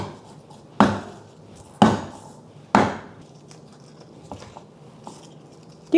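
A knife smashing garlic cloves open on a cutting board: three sharp, loud thwacks about a second apart, each ringing briefly, then a few lighter taps, close up with no speech.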